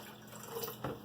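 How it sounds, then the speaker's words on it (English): About a liter of water poured from a bottle into a pot for heating, a faint, brief trickling splash with a couple of soft drips, alone without talk. "we're just going to heat us up some water here. And I'm going to be pouring in only about a liter."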